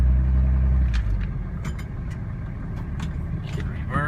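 A 2007 Dodge Ram diesel Mega Cab Laramie 4x4 pickup drives in 4 high, its engine giving a steady, loud low rumble throughout, with a few light clicks and knocks on top.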